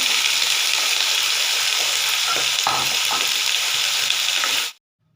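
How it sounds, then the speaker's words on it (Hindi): Cauliflower frying in ghee in a pan, a loud, steady sizzle with stirring scrapes close by, running continuously before cutting off abruptly near the end. "इसके अंदर मैं गोभी फ्राई कर रही हूँ।"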